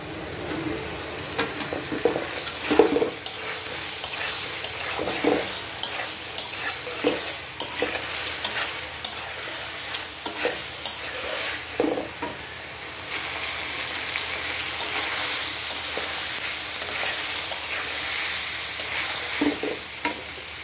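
Vegetables with spice paste frying in a pan for a pabda fish curry, a continuous sizzle broken by repeated scraping stirs at an uneven rhythm.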